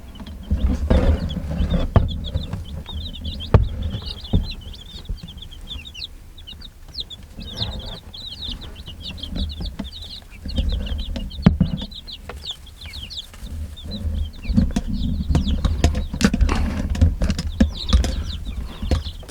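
Young chicks peep in a constant, dense chorus of high chirps, close by and continuous over a rumbling, shuffling background with occasional thumps.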